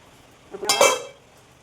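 A biscuit pan is set down into a preheated kadai, a single close metallic clank with a short ringing scrape that fades within half a second, no talking.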